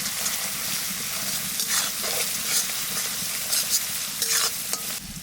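Spices with Kashmiri chili powder frying in oil for a pumpkin curry, a loud continuous sizzle close by, broken by repeated scraping strokes of a spoon stirring the pan, with no talking.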